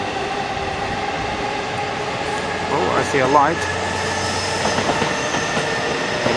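A Skyliner train arrives at a Japanese station platform, with a steady rolling rumble building and high wheel squeals rising and falling as it pulls in, while a person speaks briefly over it.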